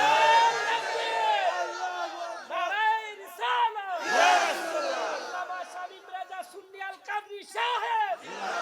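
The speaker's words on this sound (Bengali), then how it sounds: "জোরে একটা তাকবীর হবে" A crowd at a Shab-e-Barat prayer gathering loudly shouts takbir together in repeated swelling waves of raised voices, with short gaps between the call-outs.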